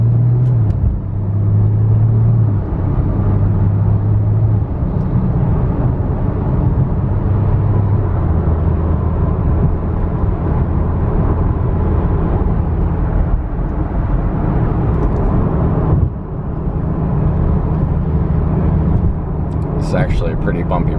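A 2017 Porsche 911 Turbo S rolls over a bumpy San Diego road, with a steady low tire and engine rumble heard inside the cabin while a person talks over it.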